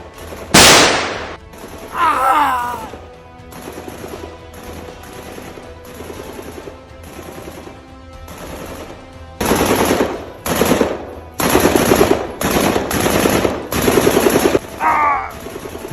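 Machine gun fire in an animated battle scene, with loud bursts of rapid automatic shots recurring throughout, some sharp and close, others lighter and more distant, over a continuous noisy combat background.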